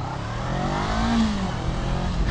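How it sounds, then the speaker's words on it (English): A 2024 Honda CBR500R with a 471cc parallel-twin engine pulls away, its exhaust note rising steadily in pitch as it accelerates, loud and close throughout. "So powering this CBR500R is the 471cc parallel twin engine from Honda"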